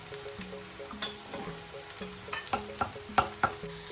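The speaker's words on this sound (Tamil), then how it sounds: "வெங்காயம் பொன்னிறமாகும் வரைக்கும் வத வதக்கணுமா இதோட பச்சை மிளகாயை சேர்ப்போம்" Onions and green chillies sautéing in a pan for mutton liver fry, with a soft steady sizzle under repeated scraping and stirring strokes that grow sharper and more frequent toward the end.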